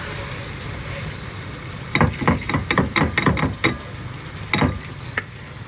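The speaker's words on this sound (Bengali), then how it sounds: "চালগুলো এখন ভালো করে ভেজে নিতে হবে" Raw rice frying in a pan over turned-down stove heat: a steady background sizzle, then a run of sharp, rhythmic scraping and stirring strokes from a utensil, close and fairly loud, with a couple of later isolated strokes.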